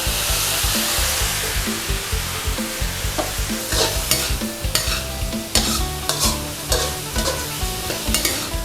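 Pork liver stir-fried with chive flowers in a pan: a loud, continuous sizzle broken by repeated sharp clanks and scrapes of a spatula against the metal.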